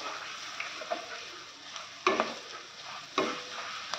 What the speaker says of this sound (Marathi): हे जरा परतून घेऊ. उडदाची डाळ जरा लालसर परतायची आहे.